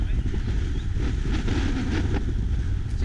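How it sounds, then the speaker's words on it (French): A strong wind gusts steadily outdoors in the Dombes countryside, a constant loud roar buffeting the microphone for the whole stretch without a break. "Quel vent!"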